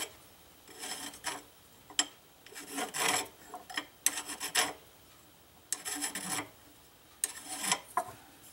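A metal file rasps a burr off metal stock in a workshop, with several separate strokes in bursts and short pauses between them, fairly close and moderately loud.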